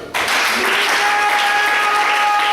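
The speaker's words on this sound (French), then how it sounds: "On peut acclamer le Seigneur." A church congregation applauds and cheers for the Lord during a French-language sermon, a dense, steady wash of clapping and voices starting abruptly and sustained loudly throughout.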